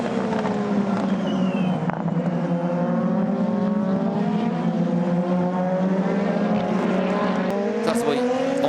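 Super Formula race cars overtaking at Motegi, their high engine notes rising and sweeping past at a distance under commentator talk and crowd-broadcast ambience.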